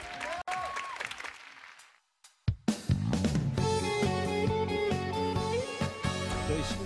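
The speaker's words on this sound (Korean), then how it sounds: "큰 박수로 정해주십시오." Studio audience applause on a Korean masked singing competition show, a short burst of crowd clapping that drops out and then gives way to loud music with instruments.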